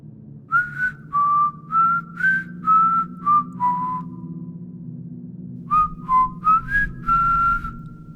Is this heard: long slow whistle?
yes